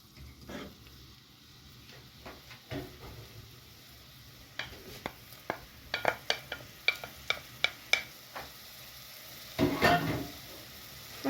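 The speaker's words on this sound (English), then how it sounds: "step is to fry our onions. So we're going to put oil," Onions fry in oil in a pot for a matoke (green banana) stew: a faint, steady sizzle runs under irregular sharp taps and clinks of a spoon stirring, with a brief louder burst near the end.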